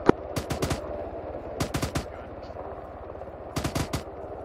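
Bursts of rapid automatic gunfire in a shooter video game, three clusters of sharp cracks separated by short pauses over a low background hum.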